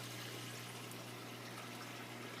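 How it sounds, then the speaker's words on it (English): A powerful return pump on a 40 breeder reef tank pushes water in an unbroken hiss and gush with a low steady hum underneath, close and constant. "This particular pump is pretty powerful, so we don't want the water to shoot out too high."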